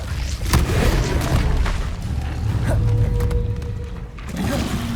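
The Incendio fire spell is cast in the video game Hogwarts Legacy, a heavy booming whoosh with deep rumble, followed by further thuds and a rising magical tone, loud and close.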